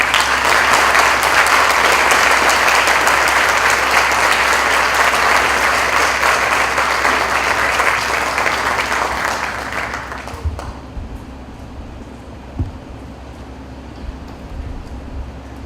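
A lecture-concert audience gives a steady round of applause to welcome a Brazilian artist. The loud, dense clapping fades out after about ten seconds, leaving a quiet room with a few stray sounds.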